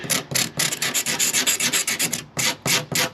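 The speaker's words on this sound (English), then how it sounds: "start scraping off some of that stuff" Rhythmic scraping and rasping as grime is worked off the plastic body panels of an old Honda ATV, steady strokes repeating close up with a short pause near the end.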